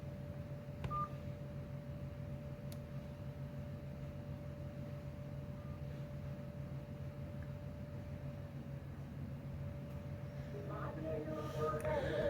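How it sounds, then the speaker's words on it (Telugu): A telephone call being placed, heard as a steady faint tone with a few brief dial beeps over a low background hum, getting louder near the end. "రింగ్ అవుతుంది."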